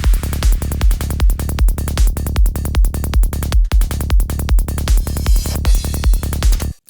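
A full psytrance drum sequence drives along with pounding kick and rolling bass, topped by a big reverb-washed clap, a splashing crash and swelling reversed crashes, loud and dense until it stops suddenly.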